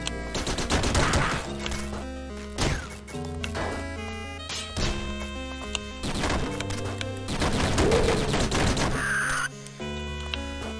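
Sharp, snappy gunshots from the game Downwell fire in quick repeated bursts over looping game music, each shot a short, bright crack followed by crunchy impact sounds.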